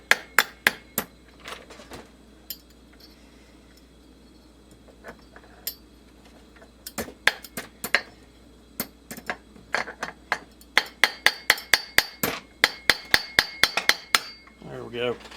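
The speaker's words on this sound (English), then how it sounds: "A little bitty ball peen hammer works better than that big construction hammer" Small ball peen hammer tapping on a Poulan Wood Shark chainsaw flywheel to knock it loose, sharp metallic taps in irregular bursts, then a rapid run of strikes near the end, close and loud.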